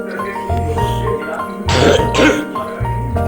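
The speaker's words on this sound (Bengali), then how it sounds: "এতটাই কাশি হচ্ছে, যার জন্য আমি কিছুই বলতে পারছি না।" A burst of harsh coughing and throat clearing, close and loud, over a steady low background hum.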